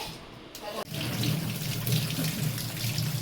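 Ridge gourd is washed under a running kitchen tap, the water streaming steadily and fairly close after a brief start, a continuous splashing rush with no talking.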